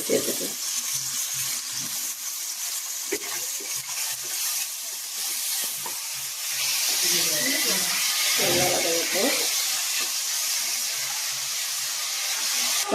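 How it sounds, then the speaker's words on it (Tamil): Onions sautéing in hot oil in a pan, a steady sizzling hiss that grows fuller midway, with spoon stirring and a person talking over it. "வெங்காயம் நல்லா வதக்கப்படணும்"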